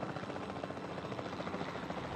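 A helicopter in the video game Jurassic World throbs steadily with rapid, even rotor pulses, close and continuous.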